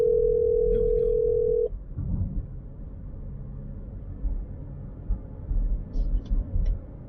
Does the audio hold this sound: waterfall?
no